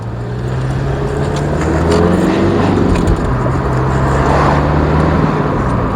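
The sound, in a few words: Rover 25 diesel car driving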